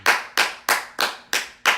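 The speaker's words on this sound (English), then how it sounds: "I feel like I need to applaud for that." Six crisp, evenly spaced hand claps, close and loud, about three per second with no talking.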